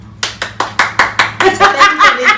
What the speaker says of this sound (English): Y'all want hand clap?